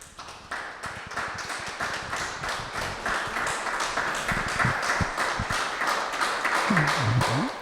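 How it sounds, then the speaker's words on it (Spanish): A church congregation claps in a steady, dense round of applause that builds slightly toward the end, where a voice rises briefly over it. "Un aplauso al Señor."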